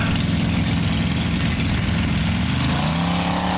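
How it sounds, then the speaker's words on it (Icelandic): A Buick 455 engine in a formula off-road competition car runs with a steady, loud, low rumble, continuous and alone with no voices over it. "455 Buick mótorinn."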